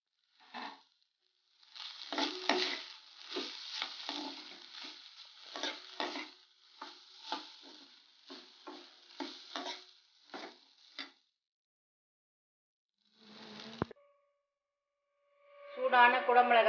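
Capsicum rice mixture being stirred in a pan, with repeated scraping and clattering strokes in bursts, a pause, then a louder scrape near the end; close and fairly faint.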